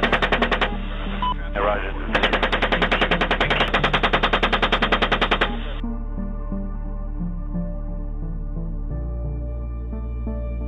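Rapid machine gun fire from war footage rattles in loud sustained bursts with a short gap, then stops and gives way to a steady tone; a voice calls out briefly.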